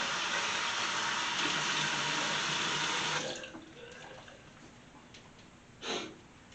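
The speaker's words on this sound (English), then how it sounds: "splash a little bit more water on my face." Tap water runs steadily into a bathroom sink for a few seconds, then stops. Quieter splashing follows as water is scooped onto the face before shaving, with a short breathy snort near the end.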